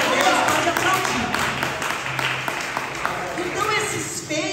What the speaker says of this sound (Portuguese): Então, pode aplaudir, pode aplaudir.